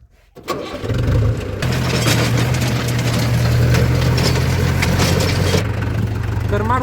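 A dirty farm tractor cranks briefly and fires up, its engine settling into a loud, steady diesel-like idle close by, with a voice speaking briefly over it.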